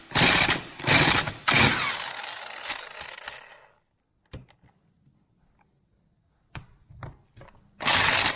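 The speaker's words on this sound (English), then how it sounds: "let me get the impact set up and we'll get that switched out" Impact wrench removing bolts from a power steering pump on a Chevy 350, three loud close rattling bursts at the start, a fading tail, then quiet tool clinks before a final burst.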